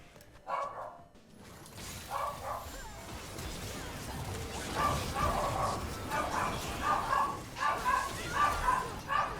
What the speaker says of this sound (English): I apologize about my dog